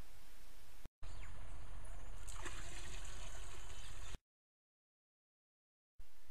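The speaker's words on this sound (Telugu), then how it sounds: "ఈ విధంగా 100 లీటర్ల నీళ్ళల్లోకి 200 మిల్లీలీటర్లు కషాయం పోసుకొని బాగా కర్రతో కలబెట్టాలి." Herbal decoction mixed into a large tank of water and stirred with a stick, heard as a close, continuous watery swishing and trickling for about three seconds before dropping to silence.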